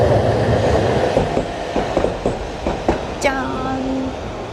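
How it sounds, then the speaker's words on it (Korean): A commuter electric train rolls past at close range on a street in Osaka, its wheels giving a loud rhythmic clickety-clack over rail joints, followed by a rising electronic whine and a steady hum as it moves on. "바로 앞에 이렇게 전철이 지나가가지고"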